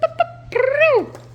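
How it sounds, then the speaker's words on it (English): Short chirps are followed by a drawn-out, rising-then-falling meow from a young kitten, close and loud over a low background hum. "make kitty noises"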